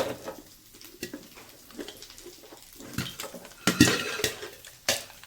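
Popcorn begins to pop in a pan on a home stove, with scattered sharp taps and clatters of kernels and the pan being shaken, irregular and close, interspersed with quieter gaps.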